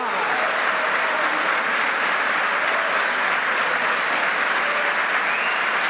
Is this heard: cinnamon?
no